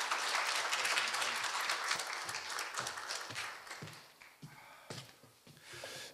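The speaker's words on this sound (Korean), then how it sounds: "모두 큰 박수 부탁드리겠습니다." Audience applause at a Korea University lecture event welcoming a speaker, a dense crowd clapping that fades over several seconds into scattered claps.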